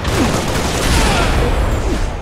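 Rocket explosions in a first-person video game arena match: a dense, loud rumble of blasts and gunfire that fills the full two seconds, with no pause.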